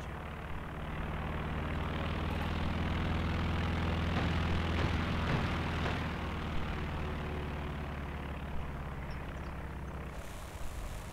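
Propeller drone of a scout plane flying over a winter battlefield in Company of Heroes 2, a steady low engine hum that swells and fades, moderately loud and continuous with no talk.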